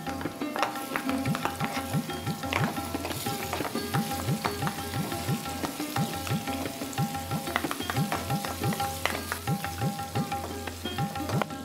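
Fried ingredients for kabuli rice being stirred in a pan: steady sizzling with repeated rhythmic scraping strokes of a spoon throughout, close and moderately loud, with no talk.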